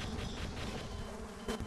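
A swarm of bees in a video game gives off a steady, dense buzzing drone that stays loud and constant throughout, with no voices.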